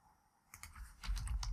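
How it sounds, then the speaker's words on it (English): Typing on a computer keyboard, a quick run of soft key clicks starting after a quiet moment and growing denser, close by and faint. "and then start typing"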